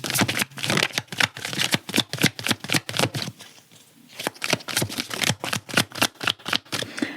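Tarot cards are shuffled in quick, crisp riffling bursts, close and fairly loud, with a brief pause midway before the rapid flicking resumes.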